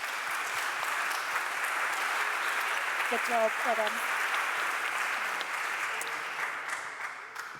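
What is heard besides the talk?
audience applause after a talk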